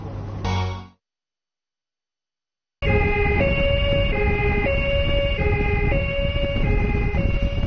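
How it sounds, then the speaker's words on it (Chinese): An ambulance pulling up at a hospital emergency entrance sounds its siren. After a short burst and a second of silence, a loud, near two-tone wail cycles steadily over road noise. "救护车急促地停在医院的急诊室门口"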